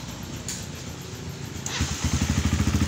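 A Honda XR200 motorcycle fitted with a TMX 155 carburetor, its engine turning over and catching, then settling into a loud, steady, pulsing idle close by with no talk.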